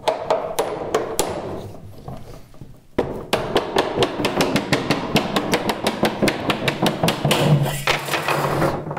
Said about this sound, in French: Un marteau.